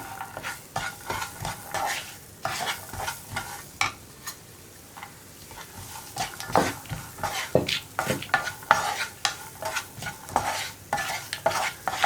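Chopped mango is stirred into a pan, producing repeated quick scraping and clinking strokes of a spoon against the metal, irregular and close, over a light sizzle.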